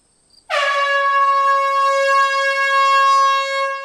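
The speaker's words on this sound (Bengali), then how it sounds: "আবারও দূরে সাইরেনের শব্দ শোনা গেল।" A siren rings out in a single steady, sustained wail, loud and clear from its sudden start and holding an even pitch to the end, with no voices.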